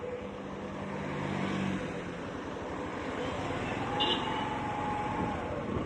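A car turns around on a mountain road near the Mettupalayam viewpoint. Its engine and tyre rumble stay steady and moderately loud, swelling slightly partway through, with wind in the background.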